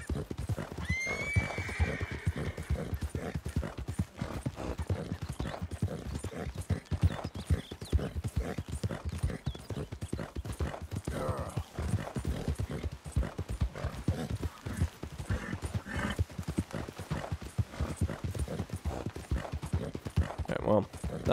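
A horse gallops at full speed in Red Dead Redemption 2, with rapid, continuous hoofbeats and a whinny near the start, while a voice talks over parts of the ride.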